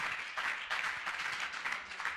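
Audience applause at a Jain religious discourse gathering, a steady, moderately faint wash of many hands clapping with slight swells, continuing without talk.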